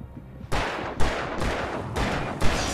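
Gunshots in Alan Wake Remastered: five loud, sharp shots spaced about half a second apart, each with a short ringing tail, and no talk.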